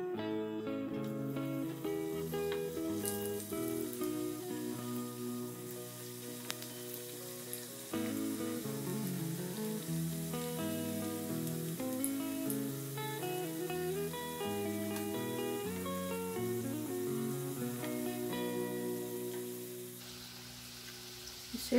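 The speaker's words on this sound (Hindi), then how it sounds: "ये इसे सिम पे रखकर तलना है।" Paneer ring samosas fry in oil on a low flame, giving a soft, continuous sizzle that runs steadily under prominent background music.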